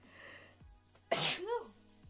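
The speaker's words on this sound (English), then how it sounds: "have to sneeze." A single loud sneeze bursts out close to the microphone during a coding livestream, a sharp explosive burst with a short voiced tail, set against a low steady background hum.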